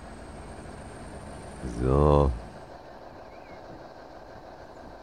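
A steam train runs along its track in the EEP railway simulator game, a steady low rolling rumble and rattle under a brief spoken word from a nearby voice.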